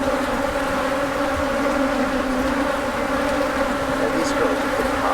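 A swarm of agitated honeybees buzzes loudly and steadily throughout an open beehive inspection, a dense continuous drone close by with no pauses.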